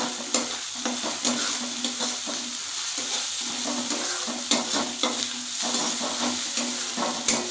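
Cumin and coriander powder are stir-fried over raised heat with hilsa fish head and chickpeas, an even sizzle broken by regular spatula scrapes and taps against the pan, no voices.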